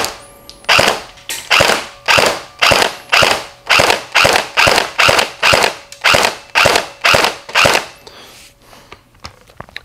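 A KWA T10 RM4 airsoft electric rifle fires a long, steady string of sharp mechanical shots with the stock spring installed, loud and close, in an even rapid rhythm before falling quiet at the end.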